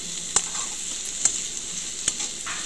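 Pappu tomato curry fries in a pan with a soft, continuous sizzle, broken by a few sharp clinks of a spoon stirring against the pan.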